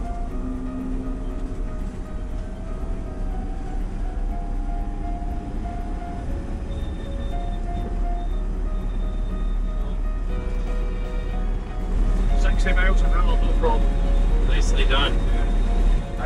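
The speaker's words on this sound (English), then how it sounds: "On an electric vehicle, there is no gearbox. It just drives seamlessly from zero to whatever speed." Electric vehicle cruising on an open road with no gear changes, a steady low road and tyre rumble throughout that swells slightly louder near the end, with a faint higher whine riding above it.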